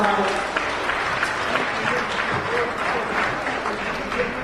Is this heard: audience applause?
yes